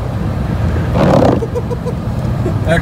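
A 1990 Oldsmobile Cutlass fitted with a Thrush turbo drives along, its engine a steady low drone that swells briefly in a brief rev, with faint noises near the end and no talking.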